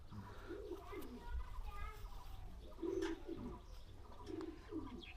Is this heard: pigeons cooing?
yes